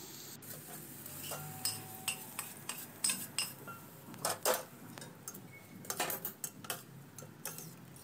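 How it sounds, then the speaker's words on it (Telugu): Fried onion chutney mixture being stirred into thick curd, with a series of light clinks and taps of a spoon against a bowl, irregular and fairly close, with no talking. "బాగా వేయించిన పెరుగు పచ్చడి మిశ్రమాన్ని గడ్డ పెరుగులో వేసి చక్కగా కలపాలి."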